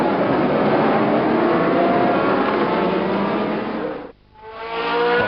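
Tyrrell racing cars roar past at Donington Park during a Thoroughbred Grand Prix race, a loud steady engine wash that drops away briefly near the end before building again.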